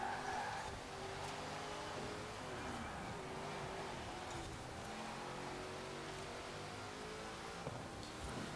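Race cars in Forza Horizon 4 roar along with a continuous engine drone and tire squeal, the revs rising and falling over the whole stretch, heard faintly at a distance under a quiet voice.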